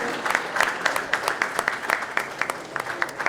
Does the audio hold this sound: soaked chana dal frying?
no